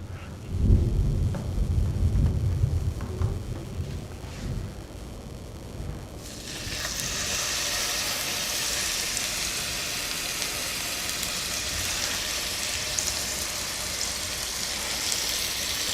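Burgers hitting a heated, oiled skillet, then a steady bright sizzle that holds loud and continuous after a few seconds of quieter handling noise.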